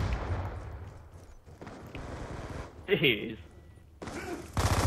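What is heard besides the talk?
shotgun gunfire in Call of Duty Black Ops 2 video game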